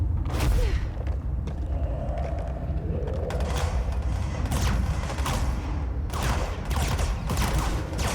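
Video game gunfire pounds at an energy shield in bursts of rapid shots mixed with heavy booms and creaking mechanical clanks.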